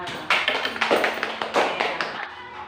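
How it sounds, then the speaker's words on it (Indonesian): Classroom applause for a classmate, a short burst of hand clapping that swells and fades over a few seconds, fairly close, with faint talk beneath. "Tepuk tangan untuk temannya."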